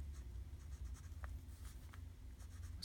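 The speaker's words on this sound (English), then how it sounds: "So I'm going to write that right here." Pen writing by hand in a daily journal spread, a faint, soft scratching of strokes over a steady low background hum with no talking.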